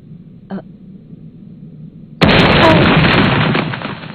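Bubbles in an anime fight burst with a sudden loud bang, and a roaring blast rumbles on and slowly fades. A short faint sound comes just before it.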